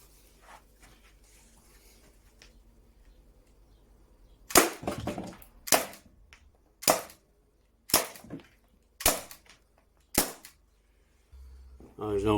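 An Umarex HDR 50 air gun fires pellets into a box. Six sharp, loud cracks come at roughly one-second intervals after a quiet lead-in, and each shot ends in a short thud.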